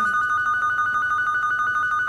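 A telephone rings with a steady, continuous electronic tone that holds loud and unbroken throughout, with no talking over it.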